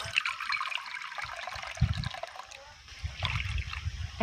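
Water from a bowl is poured into rice flour. Close, gentle pouring and trickling comes in uneven bursts, with a soft thump or two and no talking.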